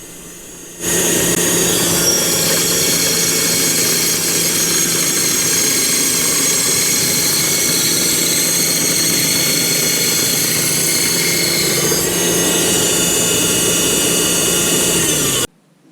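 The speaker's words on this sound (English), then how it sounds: "On the bandsaw, I'm going to cut 45 degree or approximately 45 degrees." A bandsaw cuts maple logs at roughly 45 degrees, a loud continuous whining roar that runs almost unbroken for about fifteen seconds before stopping abruptly.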